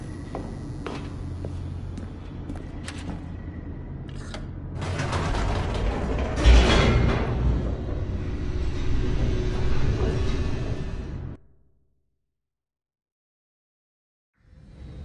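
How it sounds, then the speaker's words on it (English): An elevator descending in The Stanley Parable video game: steady mechanical creaking and grinding with clanks, building into a louder rattling rush before cutting off abruptly into silence, then a faint return at the very end. "The elevator raced downward, plummeting towards an unknown fate."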